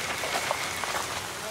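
Steady rain falling at night on a railway track, a dense even hiss of drops with no voices over it.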